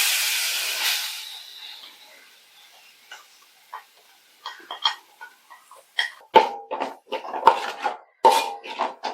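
Ground paste masala for Kerala-style beef curry going into a hot pan opens with a loud sizzling hiss that fades, followed by sharp clinks and scrapes of a spoon against the pan, with no talk.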